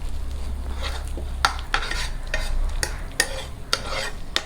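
A tempering of red chilies is stirred into a pot of kuzhambu, giving repeated close scraping and clinking strokes of a spoon over a low frying hiss, with no talk.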